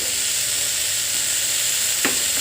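Tomatoes sizzle and fry steadily in a hot pan for Telugu-style bachali kura pappu, a constant close hiss with a brief stir near the end.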